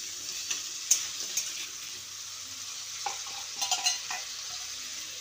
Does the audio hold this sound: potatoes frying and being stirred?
yes